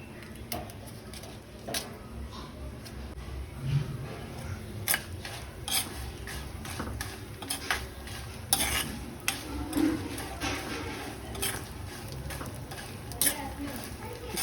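Chana dal, garlic, dried chillies and fenugreek frying in oil with cumin and mustard seeds for Andhra ginger chutney, a steady low sizzle broken by repeated sharp spoon clicks and scrapes against the pan.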